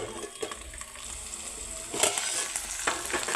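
Tomato pieces and tamarind frying in a pan for onion chutney, giving a soft, close sizzle with a few sharper crackles and spatters near the end, no voices.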